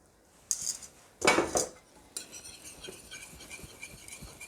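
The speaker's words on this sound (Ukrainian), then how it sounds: "До жутків додаємо молоко та замішуємо до однорідної маси." Egg yolks, milk and flour being mixed for fluffy Japanese pancake batter in a bowl: a few sharp clinks of utensil against the bowl, then a steady, softer scraping and stirring, close and fairly quiet with no talk.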